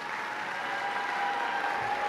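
A large crowd at a Wake Forest University School of Medicine PA program hooding and commencement claps for friends and family, an even, continuous roar of applause at a distance with a faint tonal hum beneath and no speech.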